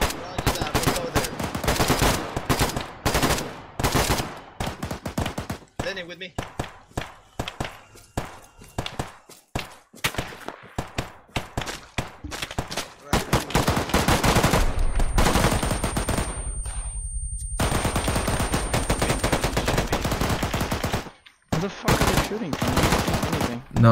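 Sustained heavy machine-gun fire from a BTR armored vehicle in an ARMA 3 battle, with dense rapid bursts, long stretches of continuous firing and short pauses between them.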